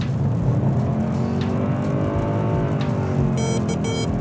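A premium car drifts on Roadking Rotalla and Continental test tyres, its engine droning loudly and steadily with rising revs and a faint tyre squeal toward the end.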